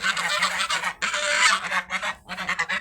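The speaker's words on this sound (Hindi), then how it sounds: "बत्तखों को अब्दुल्ला ने दौड़ाया है, वो उसकी शिकायत लगा रही हैं।" A flock of ducks calls out in loud, overlapping honking quacks, a noisy, continuous chorus close by with brief dips between bursts.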